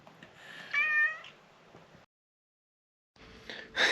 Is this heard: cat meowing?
yes